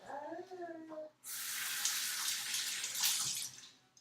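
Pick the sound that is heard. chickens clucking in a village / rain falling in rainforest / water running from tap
water running from tap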